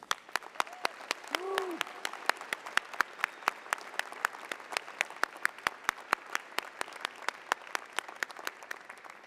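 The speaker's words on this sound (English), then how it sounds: "let's please give them a round of applause" Scattered, spaced-out claps from an audience at a medical school commencement ceremony, with individual hand claps ringing out crisply in a large hall. A brief whistle-like tone rises near the start.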